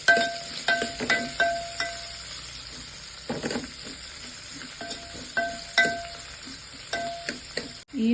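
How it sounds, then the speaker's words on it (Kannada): Chopped onions fry in oil in a pan for Coorg-style kadumbuttu, a soft steady sizzle broken by repeated clinks and scrapes of a stirring spoon. "ಈರುಳ್ಳಿ ಕೆಂಪಗಾಗೋವರೆಗೂ ಹುರ್ಕೋಬೇಕು"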